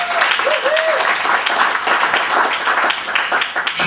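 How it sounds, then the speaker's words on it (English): An audience applauds at a Footlighters show honoring Jerry Grant, a steady wash of clapping from a crowd that fills the whole stretch, loud and continuous with a few brief tonal sounds near the start. "Please, another round of applause for Peggy."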